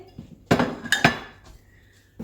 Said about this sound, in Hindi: तो चलिए जी गाइस, अब हम इसमें अपने फ्राइज डाल देंगे जो कि हमने फ्राई करके रखे थे।